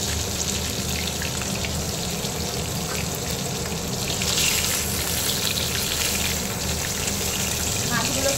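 Bhola fish fry in a pan of oil with a loud, steady, close-up sizzle that runs unbroken from start to finish, like heavy rain.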